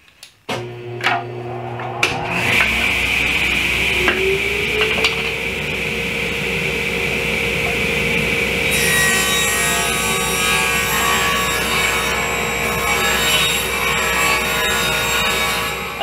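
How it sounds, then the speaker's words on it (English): A table saw set to 1.5 inches rips 3/4 inch wood stock for a kitchen island face frame, a few clicks as the motor starts, then a loud, steady whine with a rising pitch as the blade spins up and cuts continuously, close and with no talking. "And I'm going to start to rip my pieces."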